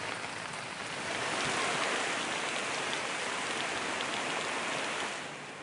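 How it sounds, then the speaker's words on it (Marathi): Heavy monsoon rain pours down in Sindhudurg district, Maharashtra, in a dense, steady roar of drops, swelling slightly after the first second and holding constant. "कुडाळ आणि दोडा या सगळ्या भागात मुसळधार पाऊस झालाय"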